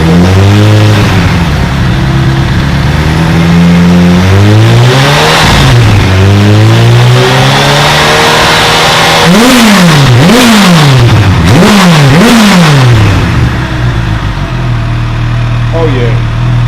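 Kawasaki H2 motorcycle fitted with a new exhaust, warmed up and idling loudly up close, then revved in several rising and falling blips, with a person talking over it.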